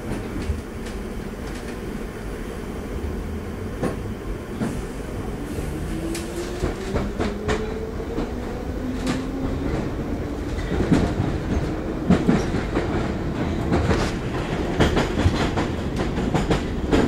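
A London Underground Piccadilly line train runs steadily, a loud continuous rumble with rhythmic clickety-clack of wheels over rail joints and rising motor tones throughout.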